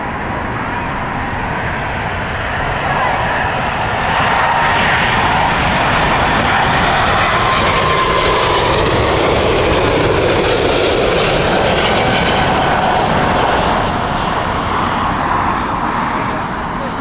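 An airliner on the Mumbai flight comes in to land at Heathrow Airport in crosswinds, its engine roar swelling loud and broad, holding for several seconds, then easing slightly, with people talking over it.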